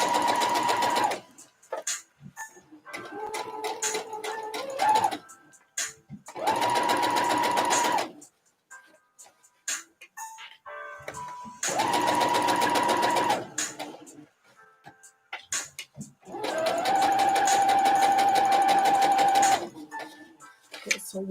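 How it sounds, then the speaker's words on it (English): Sewing machine running in five distinct bursts of steady whirring stitching, each a few seconds long with short pauses between, as the side seams of a corset mock-up made from a Butterick pattern are sewn. "I'm just going to turn and sew the side seams of this side"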